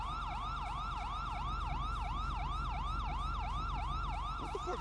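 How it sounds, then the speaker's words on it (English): Police siren in a roleplay video game, a loud continuous wailing yelp cycling rapidly and evenly, close and alone for about five seconds. "And you hear a siren?"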